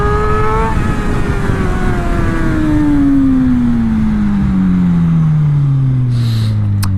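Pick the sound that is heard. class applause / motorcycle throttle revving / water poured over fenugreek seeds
motorcycle throttle revving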